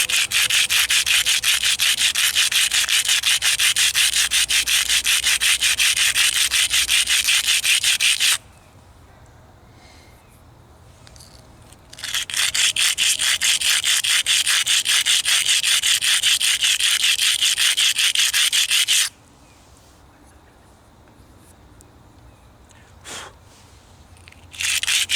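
Slate is ground against rock to shape a spearhead knife, making loud, close, continuous gritty rasping in two long rhythmic bouts separated by a quiet pause, with a faint knock near the end.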